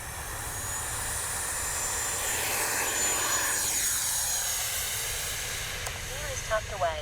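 A FlyFans 70mm JAS-39 Gripen RC jet takes off with a loud, rising ducted-fan whine and hiss that sweeps past and fades into the distance, outdoors at a flying field.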